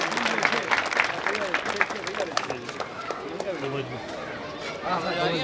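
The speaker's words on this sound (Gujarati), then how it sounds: "સૌ તાળીઓથી વધાવી લેશું" A crowd claps in applause at an outdoor Muharram gathering in Anjar, Kutch, welcoming an honoured guest; the scattered clapping continues throughout, mixed with voices chattering nearby.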